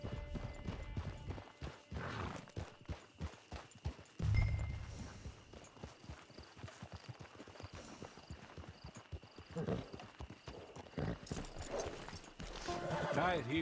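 Horse hooves clip-clop in steady walking rhythm in the Red Dead Online game, near and fairly quiet, with a brief louder thump and voices talking over the hoofbeats.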